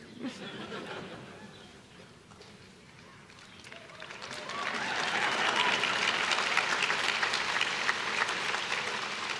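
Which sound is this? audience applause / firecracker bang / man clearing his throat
audience applause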